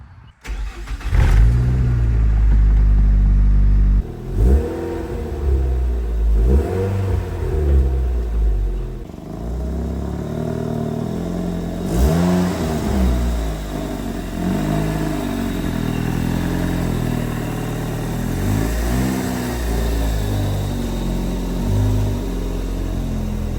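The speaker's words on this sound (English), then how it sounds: "So this is the exhaust while it's on the car." A 2004 Nissan Sentra SE-R Spec V engine starts with a loud roar, then revs repeatedly through its cat-back exhaust in rising and falling bursts, deep and close.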